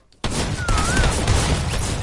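Gunfire in a shooter video game, a heavy assault rifle among the weapons, erupting suddenly into loud, continuous overlapping shots and blasts after a brief quiet start.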